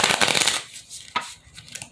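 Tarot cards being shuffled, with a dense riffling burst for the first half second, then a quieter stretch broken by a sharp snap and a few light flicks near the close.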